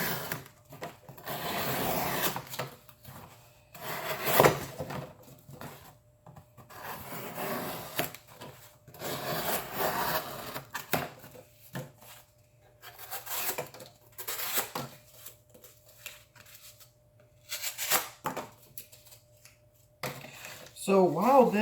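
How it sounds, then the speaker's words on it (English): A Kershaw Fraxion folding knife slices a piece of cardboard into strips, making scratchy rasping cuts in irregular bursts close to the microphone, with someone talking over and between them. "let's just cut this piece of cardboard into a couple strips."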